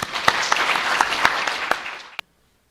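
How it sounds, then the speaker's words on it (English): An audience at a talk claps together in a warm burst of applause with a few sharp individual claps standing out, then cuts off abruptly. "please, a big round of applause for Father Henry"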